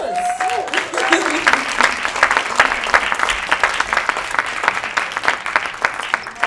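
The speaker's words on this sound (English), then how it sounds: "Applause." An audience at a festival stage applauds in dense, steady clapping that carries on throughout, with a brief whistle or cheer near the start.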